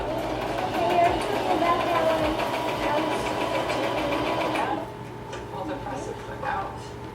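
A Brother RLX3817A sewing machine stitches in a steady rapid mechanical chatter, moderately close, stopping partway through and leaving quieter room noise with light handling sounds.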